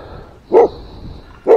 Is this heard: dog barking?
yes